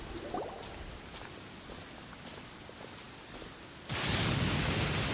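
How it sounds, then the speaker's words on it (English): Rain falls in the video game Genshin Impact as a steady soft patter, then swells abruptly into a louder, brighter downpour near the end. "since we're already caught in the rain, we might as well enjoy it"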